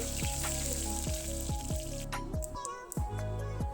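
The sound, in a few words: mustard seeds, cumin, hing and curry leaves sizzling in hot oil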